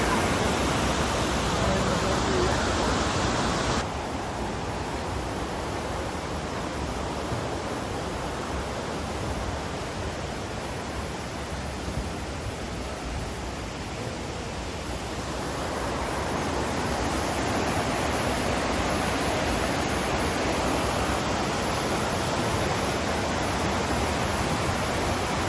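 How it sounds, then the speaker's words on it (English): Steady rushing water of a river running through a town centre on the way to Machu Picchu fills the scene with a broad continuous roar, shifting slightly in tone partway through, with no speech. "This is the centre of town, and the river runs through"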